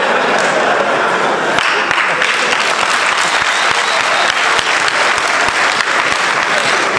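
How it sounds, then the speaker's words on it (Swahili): Loud, sustained crowd applause for the comedian TX Dullah at an event before a regional commissioner, dense clapping filling the whole stretch with a few sharper claps standing out. "Tumpigie makofi TX Dula pia"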